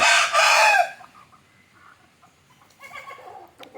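A rooster crows loudly and close for about a second, followed by quieter clucking and bird calls near the end.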